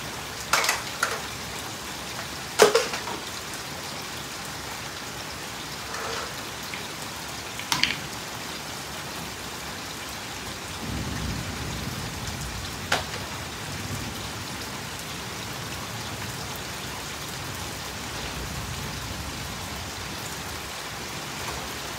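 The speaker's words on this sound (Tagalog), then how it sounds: "malakas ang ulan dito" Steady heavy rain pours down with a dense hiss, broken by a few sharp louder drops or knocks; no voices.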